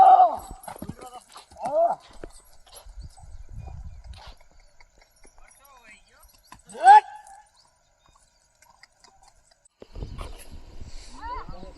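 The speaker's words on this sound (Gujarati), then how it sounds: "ઘોડો." One of three newly bought horses, with a few scattered hoof knocks and a short whinny-like call over quiet outdoor background, interrupted by occasional voices and rustling.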